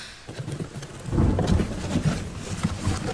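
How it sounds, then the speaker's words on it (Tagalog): Heavy rain pours down steadily, dense and loud throughout, swelling after the first second with low thunder rumbling beneath the downpour; no voices. "Masyadong malakas tong ulan."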